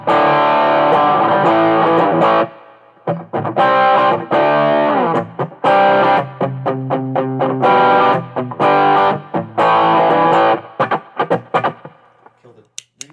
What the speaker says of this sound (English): I'm going to put on the JRockett GTO overdrive. A little bit of a darker drive, but a little bit more fatter sound.